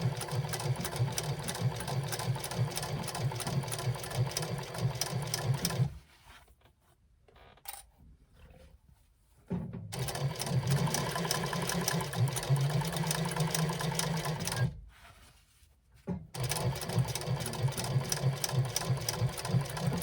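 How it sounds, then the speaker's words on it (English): A sewing machine stitching along a fabric lining runs in two long, steady buzzing bursts, with short quiet pauses between them, close and clear with no talk. "we're going to sew level with that lining but not through it. If it helps, pull it out of the way as you sew."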